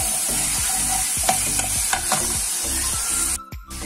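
Ginger-garlic paste frying in a pan for Rajasthani besan gatte curry, a loud steady sizzle with repeated scraping stirs of a spoon against the pan, ending in a short clatter.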